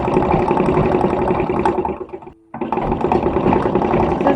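Sewing machine running steadily while stitching a seam on a reproduction 1860s man's shirt, a close, loud continuous whir that cuts out for a moment in the middle and then resumes.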